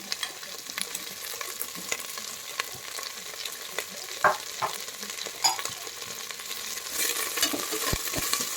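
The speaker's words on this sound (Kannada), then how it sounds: "ಹಾಕಿ ಚೆನ್ನಾಗಿ ಫ್ರೈ ಮಾಡ್ಕೊಳ್ಳಿ" Onion, capsicum and potato fry together in a pan with a steady close sizzle, broken by repeated scrapes and clicks of a spatula stirring, growing busier toward the end; no voices.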